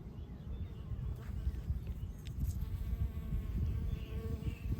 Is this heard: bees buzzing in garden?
yes